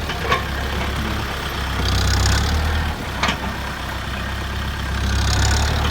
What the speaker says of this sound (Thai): รถไถคูโบต้าเอลซีเจ็ดศูนย์แปดนะครับ